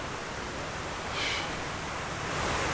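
River rushing on Dartmoor, a broad continuous hiss of flowing water with slight swells in loudness and no voices.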